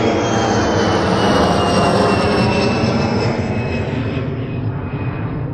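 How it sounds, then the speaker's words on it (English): An airplane flies near an airport with a loud, steady roar that rises and holds for several seconds without any talk. "I'm sure there'll be more planes at this airport, so I'll get a couple more."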